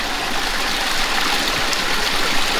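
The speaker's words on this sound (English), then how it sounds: "you see how all that water is coming off that one little spot right there?" Water pours steadily over a small waterfall in a newly built backyard aquascape pond, a constant close splashing rush with no talk.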